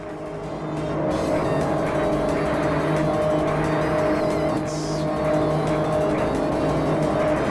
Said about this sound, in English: The engines sound bad.